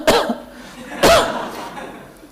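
A single person coughs sharply twice, about a second apart, loud and close, with no other sound around the bursts.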